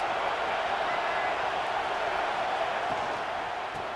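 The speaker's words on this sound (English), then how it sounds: "Listen to this crowd just shaking the girders of this place, trying to help their defense." Stadium crowd cheering in the College Football 26 video game, SMU at Michigan State: a steady, dense roar of many voices held at an even level throughout, with no distinct individual shouts or talk.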